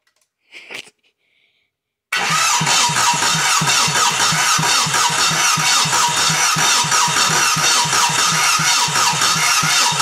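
A 1.9L TDI ALH diesel engine turning over on a test starter, close and loud. After a short faint rattle and then silence, a steady rhythmic chugging crank continues unbroken.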